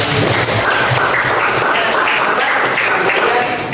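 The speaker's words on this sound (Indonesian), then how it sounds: "Tepuk tangan untuk kita." Classroom applause from a group of students, a steady dense clapping that fills the whole stretch at close range, with some voices mixed in.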